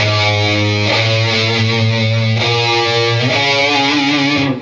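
Distorted electric guitar plays a riff with sustained, saturated chords and shifting notes, loud and close throughout, with no talking.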